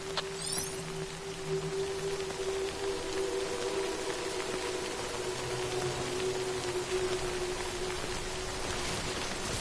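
Steady rain hisses softly in the video game Death Stranding, a continuous even patter under low sustained tones, with no voices.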